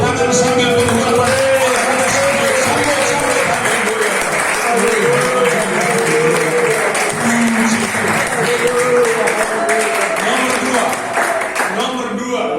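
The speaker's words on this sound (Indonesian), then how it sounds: "kita beri tepuk tangan sambil berdoa" A church congregation claps together during prayer, steady dense applause running throughout with voices praying and music underneath, loud and close.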